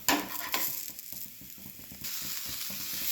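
A crispy ghee dosa sizzles on a hot pan while a spatula scrapes and taps it in a quick irregular run of close clicks, with no talk.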